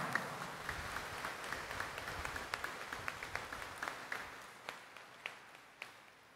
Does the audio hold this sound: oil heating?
no